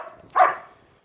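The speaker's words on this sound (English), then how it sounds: "And you're barking." A single short, sharp dog bark rings out nearby in a backyard, a brief burst followed by quiet.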